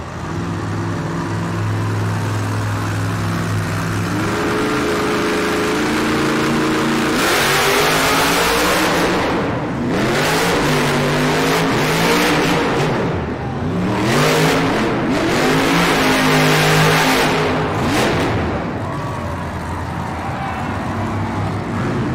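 Monster Jam truck Grave Digger at an arena freestyle event, its engine revving loudly in repeated surges and throttle blips, rising and falling close by over steady crowd and arena noise.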